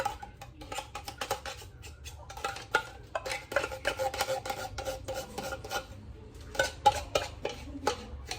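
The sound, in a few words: stirring macaroni salad in a bowl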